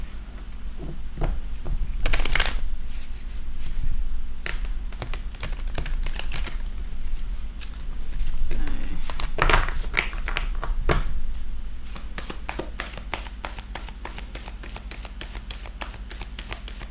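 A deck of oracle cards being shuffled at close range: a long run of crisp riffling and flicking card clicks, bursts of denser shuffling between lighter taps, with no voices.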